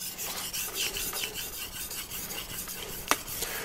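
A knife being sharpened on a 3,000 grit whetstone, repeated close rasping strokes in an even back-and-forth rhythm, with one sharper scrape near the end and no talking.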